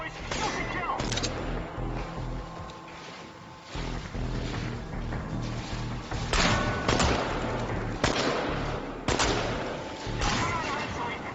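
Gunfire in the video game Chernobylite, a dense, continuous barrage of shots and booming blasts with repeated sharp bursts, loud and close, mixed with game sounds and shouted voices.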